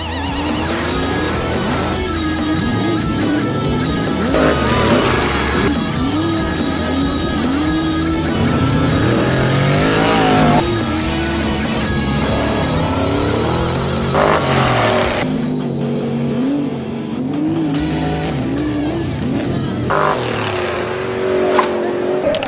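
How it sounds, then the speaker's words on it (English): A race car, run on a track ahead of the Pacifico 300, roars loud and close for the whole stretch, its engine revving and accelerating in repeated rising and falling sweeps with no break. "So we're going to race this car"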